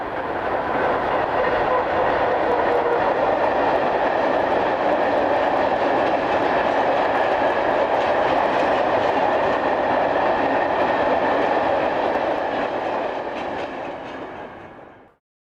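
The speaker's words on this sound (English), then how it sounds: "Finally, we see 123012 on southbound coal hoppers." Locomotive 123012 hauls a train of coal hoppers southbound, a loud sustained rumble and wheel roar passing close by, steady throughout before cutting off abruptly at the end.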